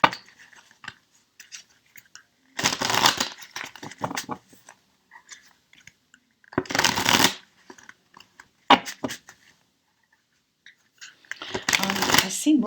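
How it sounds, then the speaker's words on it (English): A tarot deck is spread and shuffled in a few short bursts of crisp card riffling, close up, separated by quiet gaps with small handling clicks. "Let me spread the other deck, the Pictorial Key."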